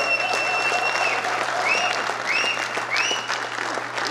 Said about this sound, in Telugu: ఒక్కసారి ఈ ప్రమాణ స్వీకారం చేసేంత వరకు మీరు చప్పట్లు ఇవ్వాల్సిందిగా మీ అందరినీ కోరుకుంటూ